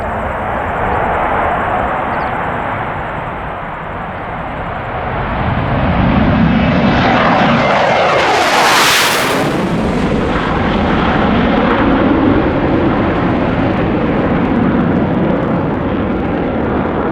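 An F/A-18 Hornet fighter jet passes overhead with a loud, roaring engine that builds to a sharp peak at close range, then recedes into a long, rumbling fade.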